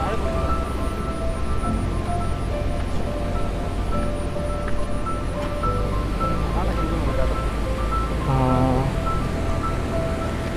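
Kattikkayam Waterfall, seen from the top near Illikkal Kallu, sends up a constant broad roar of rushing water mixed with wind, steady and loud from start to finish while people talk over it.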